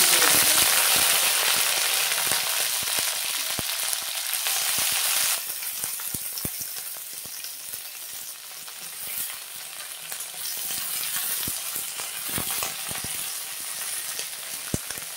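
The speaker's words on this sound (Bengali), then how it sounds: "ভেন্ডিগুলো ভাজা হয়ে গেছে" Okra frying in hot oil in a wok, a loud, dense sizzle that eases partway through, with scattered taps and scrapes of stirring, close up and without talk.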